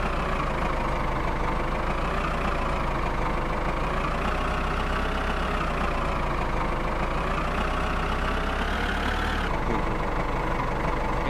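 A tractor engine in the Farm Tractor 3D mobile game, pulling a hitched trolley, drones steadily at idle with a low rumble throughout, with a slight pitch rise and fall and no talk.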